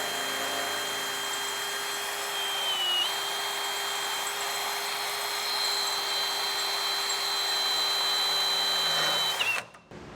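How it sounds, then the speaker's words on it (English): Power drill boring a pilot hole into a truck frame for a bolt, a steady high whine running continuously for about nine seconds at close range, slight pitch dip partway, then stopping abruptly. "I'm going to go ahead and drill a hole slightly smaller than the bolt"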